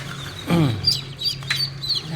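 Newly hatched Cherry Valley Jumbo Pekin ducklings peeping, several high thin chirps close by over a low steady hum, with one fuller lower call in the middle.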